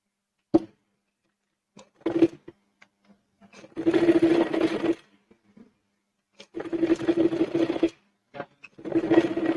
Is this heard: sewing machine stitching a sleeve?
yes